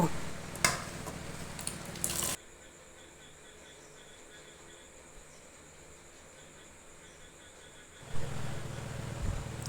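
Soft, steady frying hiss of vegetables for khichuri in a pan runs through the middle, framed by louder clattering kitchen noise at the start and end.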